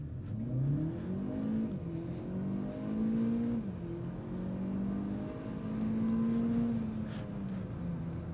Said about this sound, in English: I'll also show you how fast it can go from 0 to 100